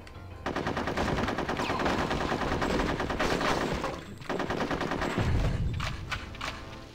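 Bayonet-fitted guns firing in the war level of Conker's Bad Fur Day: dense, loud automatic gunfire rattles almost nonstop, with a brief pause and a deep thump near the end.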